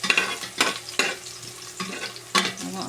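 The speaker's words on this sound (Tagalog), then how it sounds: "Bawang sibuyas. Gigisa po natin yan." Garlic and onion sauté in a pan on a low flame, a continuous sizzle broken by several sharp scraping stirs of a utensil against the pan, close up and with no voices.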